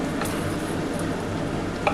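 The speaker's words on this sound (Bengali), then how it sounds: "দেখো বন্ধুরা, খুব ভালোভাবে কিন্তু আমি মশলাটা কষিয়ে নিচ্ছি।" Spice paste for a chicken curry frying and being stirred in a pot, a soft continuous sizzle with muffled scraping and squishing of the spoon, close and steady without speech.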